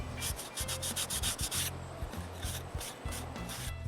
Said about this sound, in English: I finish by rubbing some Danish oil on my freshly routed chamfer.